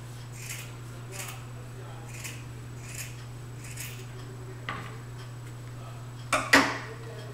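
Scissors snip a small V into the raw edge of folded fabric for a bow, giving a few faint, evenly spaced cuts over a steady low hum, then two sharper, louder snips near the end.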